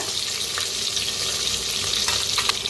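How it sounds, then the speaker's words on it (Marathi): Onion, garlic and green chilli hit a pan of whole spices, giving a loud, close, continuous sizzle of frying with faint stirring scrapes. "आता खडे मसाले चांगले भाजलेले आहेत, त्याच्यातच टाकूया कांदा, लसूण, हिरवी मिरची."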